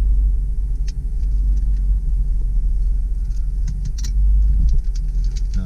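A 1993 Jeep Grand Cherokee Grand Wagoneer Limited ZJ with full-time four-wheel drive shifts into reverse and rolls, giving a steady low engine rumble from inside the cabin with a few faint clicks, and nobody talks.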